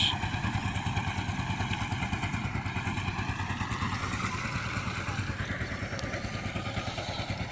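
A loud, steady speedboat engine drone with a rapid rhythmic throb runs continuously on a river, close by and unchanging throughout.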